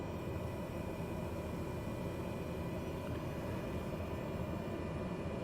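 A Cessna in Microsoft Flight Simulator 2020 rolls for takeoff from runway 31, its engine giving a steady, dense low roar and rumble that holds constant throughout, with no voices over it.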